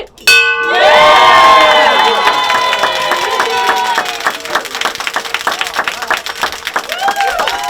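A bell rings loudly at a child cancer patient's bell-ringing ceremony, its clanging, ringing tones sustained and repeated while a crowd cheers, shouts and claps throughout.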